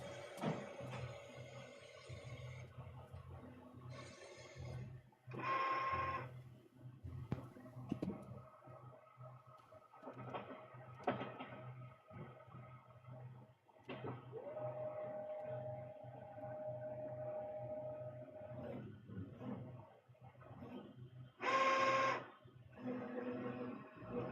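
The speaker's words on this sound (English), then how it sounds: "I got 3 printers that are running here in our print studio." Three Epson direct-to-garment T-shirt printers run in a print studio. They give off mechanical whirring and humming with sustained tonal whines, intermittent clicks and bursts of carriage movement that come and go at moderate volume.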